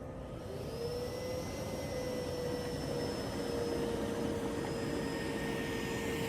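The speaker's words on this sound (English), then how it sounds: "I'm going to show you guys a test run both on the carpet and the hardwood floors so you can see how powerful the vacuum is" A robot vacuum cleaner runs over a very thick carpet, giving a steady, close whirring drone with a faint high whine that holds constant throughout, with no talking.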